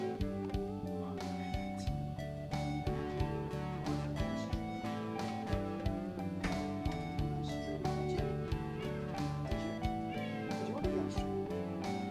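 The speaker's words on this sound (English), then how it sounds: "Let me get the cat." A cat meows repeatedly throughout, its cries close and fairly loud over a steady, busy harmonic background.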